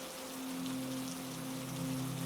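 Steady rain falls outside a mountain monastery gate, a continuous soft hiss of drops spread evenly across the whole stretch, with a low steady hum underneath and no voices.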